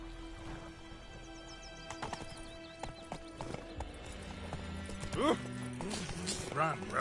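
Roach, a horse in The Witcher 3, gallops with steady clip-clop hoofbeats and a whinny, beneath game dialogue and a looping musical tone.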